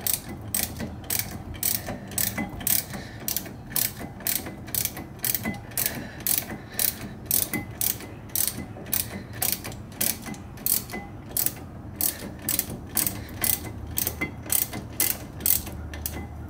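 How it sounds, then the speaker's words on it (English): A 15mm socket wrench ratchets steadily while tightening a brake caliper bolt on a C5 Corvette, giving a fast, even run of close metallic clicks in repeated bursts with brief pauses between strokes. "I'm going to go back to my 15mm to tighten that caliper bolt there."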